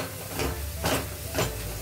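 Dry spices tossed together into hot oil for dry paneer masala, hissing in a steady sizzle with a few swelling bursts as they are stirred, no voices.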